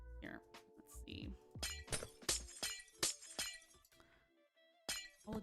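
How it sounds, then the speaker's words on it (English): Glass panes shattering in Minecraft while building a greenhouse: a quick series of loud, sharp crashes with tinkling breakage, repeated several times with short gaps, over a steady musical background. "I really wish the glass wasn't quite so jarring."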